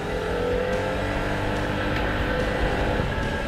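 FKM hybrid maxi scooter accelerating, a steady close engine drone with rising tonal whine, heard alone without talk.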